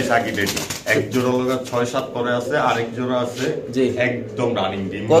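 Pigeons coo at a busy pigeon market in Bangladesh, their soft throaty calls mixed with loud, continuous talk from traders and buyers close by.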